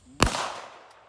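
A single handgun shot fired at a target: one sharp, loud report close by that trails off in a short echoing decay, with no talking.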